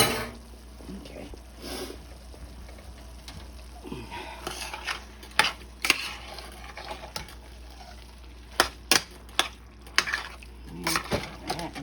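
A sloppy joe mixture is stirred in a pan, a soft background sizzle with scraping and clanks of a utensil against the pan, growing sharper and more frequent in the second half.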